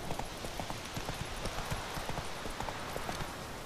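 Horse hooves in The Witcher 3 beat out a quick, steady galloping clip-clop on a dirt path at dusk, close and continuous over a dense rustling background.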